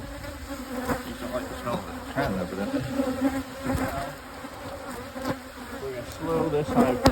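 Honey bees buzz around hives, a dense, continuous droning hum with individual bees whizzing past close by at changing loudness.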